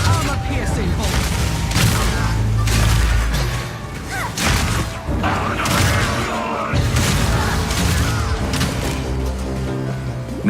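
Armor-piercing crossbow bolts fire in Path of Exile 2 during a fight with the mini-boss Li'im the Impaler, a dense barrage of booming impacts and crashes over a continuous battle din.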